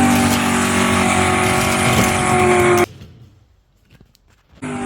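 Die-cast Matchbox and Hot Wheels toy cars, including a Subaru SVX, Bentley Bentayga, Pontiac and Jaguar, race down a track with a loud continuous rolling rumble and whir that stops abruptly, leaving near silence before the noise returns.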